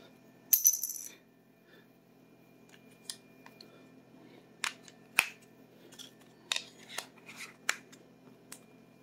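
A plastic pry tool works at the battery compartment of an Amazon Fire Stick remote. Sharp isolated clicks and snaps come close up and quiet, with a brief rustle at the start and irregular ticks after it.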